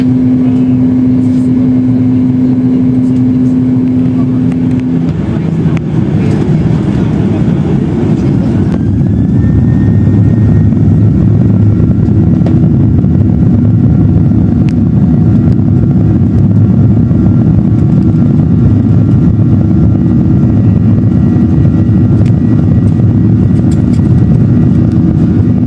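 A Batik Air Malaysia plane takes off from runway 04 at Penang, bound for Kuala Lumpur. A steady, heavy cabin roar of engines fills the whole stretch, with a thin whine rising partway through.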